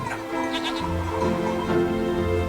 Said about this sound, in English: this crowd-pleasing herd of traditional black-necked goats, which parades through the town every day, has had it with selfies and is heading for the barn